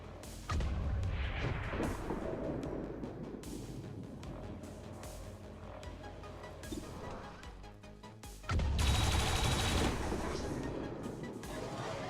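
Automated turrets fire in the video game XCOM 2: War of the Chosen, with heavy, sustained booming gunfire and explosions that swell loudly partway through.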